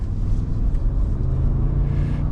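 A 2022 Ford Expedition Timberline 4X4 with the high-output EcoBoost engine pulls from inside the cabin, a loud steady low rumble of engine and road noise without pauses.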